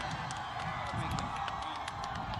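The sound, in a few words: audience applause welcoming Imran Khan at Sargodha University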